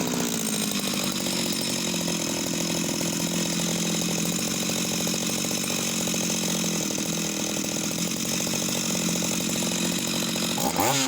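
An Italian Topso E511AVB chainsaw powerhead, bought as an incomplete project saw, runs continuously after a restart, its loud buzzing two-stroke engine holding a steady drone from start to finish with no talking.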